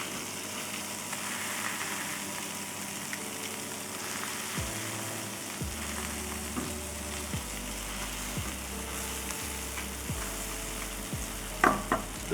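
A barramundi fillet fries skin-side down in a pan, giving a steady, dense sizzle throughout, with occasional soft knocks near the end and no voices.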